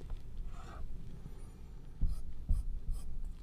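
Marker or chalk strokes on a board while drawing a physics diagram, short scratchy bursts near the start and a few sharper taps and squeaks later, close and fairly quiet with no talking.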